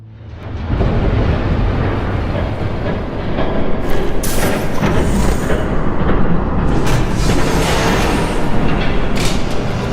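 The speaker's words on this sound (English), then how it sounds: "There's a train coming." Train passing in Batman: The Telltale Series, a loud, continuous roaring rumble that swells in after a quiet start, with repeated rattling clanks and hissing bursts layered on top as it rushes by.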